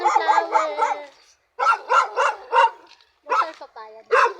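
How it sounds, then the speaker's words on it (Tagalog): A dog barks in quick, close, repeated bursts of three or four sharp barks with short pauses between, mixed with yips and whimpers, heard outdoors. "Eh, may aso lang."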